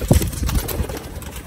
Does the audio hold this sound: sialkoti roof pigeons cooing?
yes